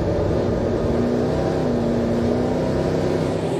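NASCAR Pinty's Series stock cars race around an oval track at Ohsweken, a steady loud engine drone running under light throttle, with no talk.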